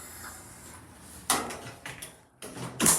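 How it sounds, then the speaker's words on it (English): Shopping centre lift doors at Castlepoint in Bournemouth sliding shut, a few short mechanical clunks and rattles close by, quiet in between, with a final louder thud at the end. "Doors closing."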